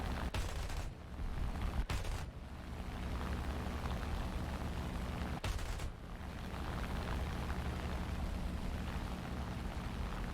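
Rapid bursts of aircraft cannon and machine-gun fire from a Bf 109-G14 in a flight combat video game rattle loudly, with a few sharp breaks between volleys over a constant engine drone.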